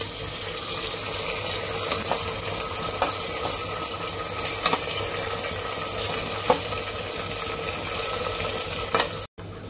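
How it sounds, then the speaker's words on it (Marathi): Tomatoes roasting in a pan for chicken biryani give a steady, close sizzle with a faint watery hiss. A few soft scrapes and taps come through, with no voices, and the sound cuts off briefly near the end. "ह्याच्यात मी आता टोमॅटो टाकणार आहे। टोमॅटो पण चांगला भाजून घ्यायचा।"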